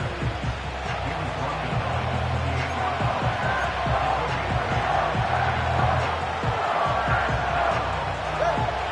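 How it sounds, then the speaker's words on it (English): A football stadium crowd roars before a third-and-long play, a dense, continuous wash of cheering and shouting that holds loud and steady throughout. "The crowd cranking it up another notch before 3rd and long."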